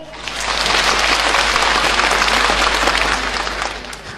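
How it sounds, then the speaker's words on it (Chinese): A theatre audience at a Yue opera concert on the Tianchan Yifu stage in Shanghai bursts into loud, sustained applause. The dense clapping swells in, holds for several seconds and then tapers off. "让我们用掌声预祝今天的演唱会圆满成功"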